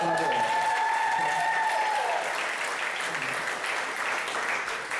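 Audience at a comedy show breaks into sustained applause with some cheering, loud and steady throughout, a tonal whistle-like tone fading in the first two seconds.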